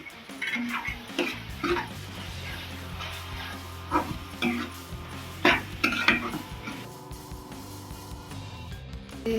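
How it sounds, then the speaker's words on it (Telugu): Soya chunks (meal maker) tipped into a pan of cooked-down onion and tomato for an eggplant curry, with scattered clinks and scrapes of a utensil against the pan and a low steady cooking hiss throughout. "ఇప్పుడు దీంట్లో మిల్లిమేకర్ కూడా యాడ్ చేసేసుకుందాం"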